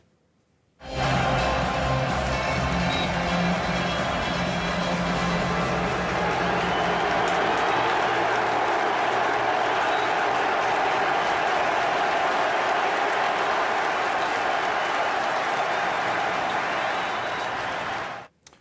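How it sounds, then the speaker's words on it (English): Stadium crowd reacting to a player taking a knee, a dense, loud, continuous roar of mixed cheers and boos that holds steady for most of the stretch before cutting off abruptly. "So there were some cheers, but also a lot of boos"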